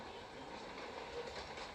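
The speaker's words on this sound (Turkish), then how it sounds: "Lan karşıdan tren geliyor ölürsün." A video game train rolls past on rails with a faint, steady rumble and soft rolling clatter, distant and low in level, with no voices over it.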